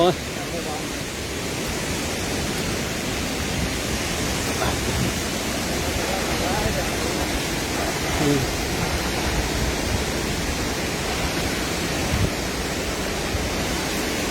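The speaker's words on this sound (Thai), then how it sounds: "เราจะเห็นน้ำตกไปเรื่อย ๆ" Steady, broadband rushing of a waterfall fills the whole stretch at an even level, a dense unbroken wash of falling water with no clear breaks.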